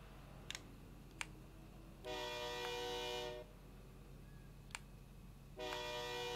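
Two long, loud harmonic blasts of a train horn sound in Forza Horizon 5, each lasting over a second, separated by sharp clicks against a low steady rumble, with no talk.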